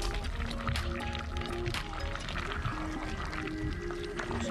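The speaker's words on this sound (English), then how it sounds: "and then add in the ackee in it" Ackee being poured into a cooking pot, a steady pouring and liquid splashing sound with faint drips, continuous and close throughout.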